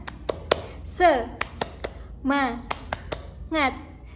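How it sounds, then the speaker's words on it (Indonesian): A school class performs a rhythmic spirit clap, sharp unison claps in a patterned beat interleaved with short chanted vocal bursts from the children, close and crisp in a quiet room. "1, 2, 3, tepuk semangat"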